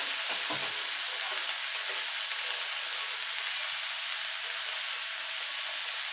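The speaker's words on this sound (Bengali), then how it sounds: "একবার হলো এইভাবে লায়ের খোসা ভেজে দেখবেন" Bottle gourd peels fry in a pan with a steady, close, bright sizzle that holds evenly throughout, with no voices.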